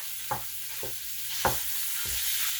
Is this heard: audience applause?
no